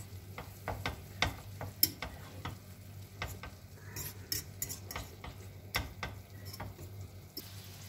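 Pasta sauce stirred in a sizzling pan for an Italian pasta with lemon, tomatoes and tuna: irregular spoon scrapes and taps against the pan over a low, steady sizzle, close and fairly quiet, with no speech.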